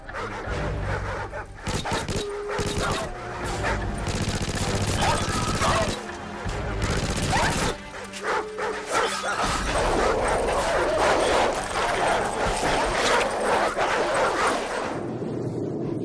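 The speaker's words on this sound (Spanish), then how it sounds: "Déjalo en paz, es un perro salvaje." Wild dog in Call of Duty 4 barking repeatedly and aggressively, close and loud, mixed with gunfire bursts and clattering, while voices speak over the commotion.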